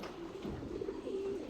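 A homing pigeon back after about two years coos softly in a low drawn-out murmur, fairly faint against a steady background hum.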